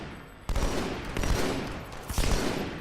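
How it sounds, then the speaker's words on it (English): Battle rifle bursts in Halo 2 Anniversary: a few sharp, loud volleys of gunfire close by, separated by brief pauses, with game ambience between shots and no voices. "And that battle rifle sounds a whole lot different"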